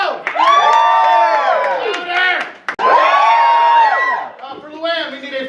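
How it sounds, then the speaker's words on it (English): A theatre audience at a festival show cheers loudly in two long, sustained bursts of whoops and shouts, with a brief drop between them and a smaller swell at the end. "When they get them right, we can cheer really loud."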